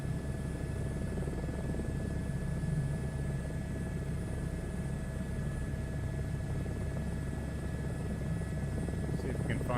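A helicopter flies in a VR flight video game over the UK, a constant, low, droning rotor and engine rumble with no break.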